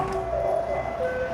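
Tinny electronic jingle from a passing garbage truck, a steady looping melody over a low engine rumble, loud and close throughout.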